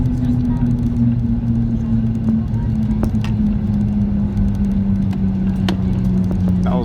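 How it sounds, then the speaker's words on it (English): Inside the cabin of a Ryanair Boeing 737-8AS(WL) during its landing rollout at London Stansted, a loud, steady droning hum from the braking slowly drops in pitch beneath continuous rumble, with faint voices in the background. "Hear those steel brakes?"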